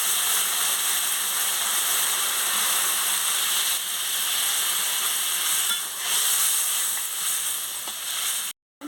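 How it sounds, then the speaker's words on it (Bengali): Potato curry stirred in a frying pan as water goes in, with a loud, steady sizzle and hiss throughout, a few soft scrapes underneath, and a brief cut to silence near the end. "এবারে ভালো করে একটু নাড়িয়ে নিচ্ছি। দেখুন, আমি পরিমাণ মতন জলটা দিয়ে দিচ্ছি।"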